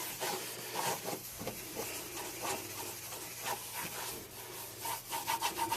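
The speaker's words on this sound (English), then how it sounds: "Just keep buffing it out." A wooden Philco 48-250 radio cabinet is buffed by hand, giving steady, close, rhythmic rubbing strokes that run continuously without talk.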